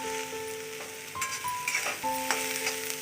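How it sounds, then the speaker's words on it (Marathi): Vegetables for veg fried rice sizzle steadily in a pan, with a few utensil scrapes and clinks and a faint tonal hum in the background. "तर आपल्या भाज्या चांगल्या फ्राय झालेल्या आहेत"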